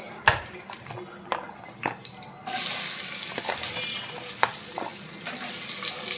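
Onions and whole spices drop into hot oil in a wok for a Bogura-style beef and potato dish. A few sharp clinks come first, then a loud, steady sizzling hiss starts abruptly and holds close to the end.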